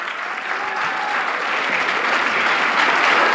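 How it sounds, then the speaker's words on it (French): Audience applause at a church tribute service, sustained dense clapping from a crowd that swells slightly and stays loud, with no voices over it. "On peut-tu lui donner une main d'applaudissement?"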